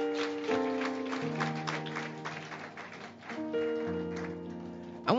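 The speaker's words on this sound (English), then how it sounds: "Clap your hands and tell him thank you." A church congregation claps along over sustained organ or keyboard chords, the scattered hand claps blending into the held notes of the music.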